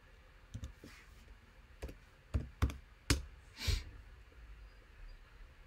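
A computer keyboard clatters in scattered key taps and clicks, a few louder strokes standing out over quiet room tone, with no talking.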